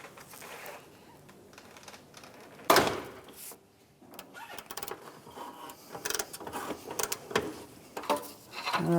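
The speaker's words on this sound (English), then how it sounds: "we are going to remove our front O2 sensor with our 22 millimeter O2 sensor socket" A 22 mm O2 sensor socket and ratchet work the front oxygen sensor loose on a 2007-2013 Mitsubishi Outlander, heard as close, irregular metallic clicks, taps and clunks with a sharp knock partway through.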